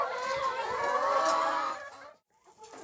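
A rooster crows loudly in one long, drawn-out call, then cuts off into near silence.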